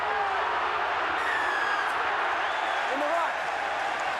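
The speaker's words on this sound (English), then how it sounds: "The referee heard the crowd roaring." Loud, steady roar of a rugby league stadium crowd at an NRL match between Wests Tigers and Brisbane Broncos, a dense unbroken wash of noise filling the whole stretch.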